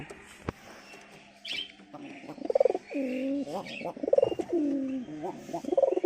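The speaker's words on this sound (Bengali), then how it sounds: "আমার শিকারি পায়রাটা আছে এখানে" Pigeons cooing in a coop, repeated throaty rolling coos in close bursts with short pauses between them, and a sharp knock near the start.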